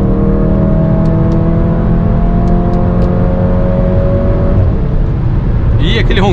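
Volkswagen Fusca TSI with over 300 wheel horsepower and a Magnaflow exhaust, revving loudly at speed on the road in a steady droning roar that eases off near the end, with speech over it.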